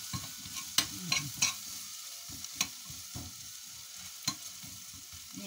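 Meat frying in a pan for goulash with gravy, with soft sizzling under repeated scraping and stirring clatter from a utensil against the pan, a few sharper knocks standing out.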